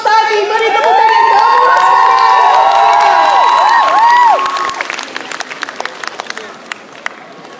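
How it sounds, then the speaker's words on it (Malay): An audience cheers, shouts and applauds for a children's choir, a loud, dense wave of high excited voices and clapping that fades after about four seconds into scattered, thinning claps. "Beri tepuk tangan dong."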